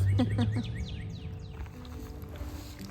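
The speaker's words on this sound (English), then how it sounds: "You can hear the birds already chirping at us." Birds chirp in a winter nature preserve on a hike, several quick bright calls and trills rising over low rustling background noise, moderately near, with no talking.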